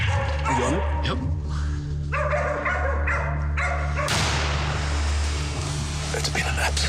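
Several hunting dogs yip and bark in short bursts during a wild pig hunt, fairly close, over constant background noise, ending in a louder rush of sound.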